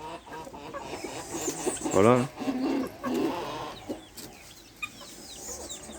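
Poultry on a breeding farm, including a Brahma Splash rooster, clucking and cooing in short bursts, with one louder call early on and a brief spoken word among the birds.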